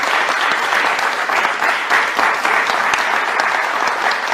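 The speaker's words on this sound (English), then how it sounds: "Audience, you can clap now." A large crowd applauding steadily at a political debate in Jamaica, dense continuous clapping at full volume throughout with no voices standing out.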